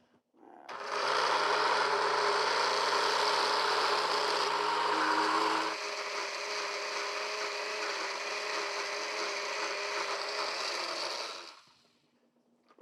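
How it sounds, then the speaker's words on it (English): An electric blender runs continuously for about eleven seconds, emulsifying olive oil and thyme dressing, with a loud steady whir that drops in pitch and level partway through, then stops. "we're gonna get our blender going to start the emulsification process"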